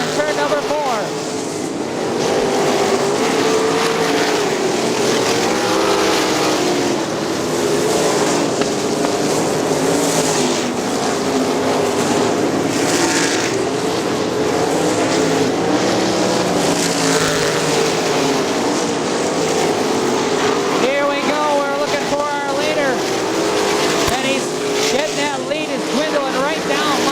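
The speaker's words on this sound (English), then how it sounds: "Mike and Dustin only separated by a few car lengths now as they work around the outside of the field." Sprint cars race on the dirt oval at Crystal Motor Speedway, their engines making a steady, dense roar for the whole stretch while a commentator talks over the track noise.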